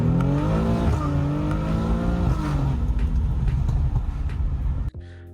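A tuned Infiniti VR30 twin-turbo V6 in a Q60/Q50/Z revs loudly and steadily with rising and falling tones, then cuts off sharply in a crisp DSG-style shift crack near the end.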